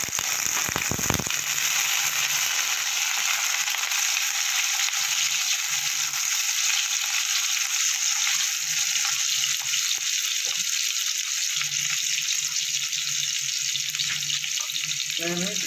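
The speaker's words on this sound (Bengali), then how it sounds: "আলুগুলো আমি একটু ভেজে নেবো।" Potatoes fry in a pan for a Bengali beto shak dish, giving a steady, dense sizzle that runs close and loud the whole time, with a few stronger crackles rising over the hiss.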